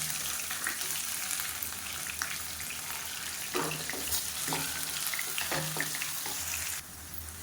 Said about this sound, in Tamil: ஒரு கை அளவுக்கு பெரிய வெங்காயம் பொடியாக நறுக்கினது சேர்த்துக்கலாம்.